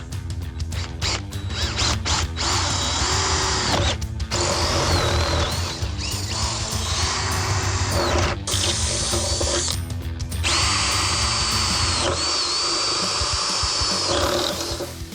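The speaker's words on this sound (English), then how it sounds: "And now I'm ready to pre-drill." A power drill pre-drills holes for a hand railing post mounting plate, running in several long whining bursts separated by short pauses, loud and close with no talk.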